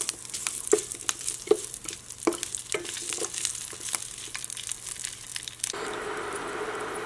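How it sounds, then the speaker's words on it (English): Garlic cloves and red chillies crackle and sizzle quietly in a pan with scattered sharp pops and taps, then the frying swells into a louder, steady hiss near the end. "I am adding 4 garlic cloves and 2 to 3 red chilli. You can also use green chilli. fry for 1 or 2 minutes."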